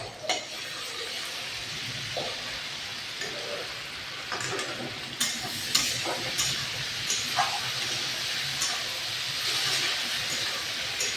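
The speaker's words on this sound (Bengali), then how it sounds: "আদা রসুন বাটা ভালো করে আলু পেঁয়াজের সাথে ভেজে দিব।" Ginger garlic paste frying with potatoes and onions in a pan, a steady close sizzle broken by scraping stirs and a few sharp clinks of a spoon, with no talking.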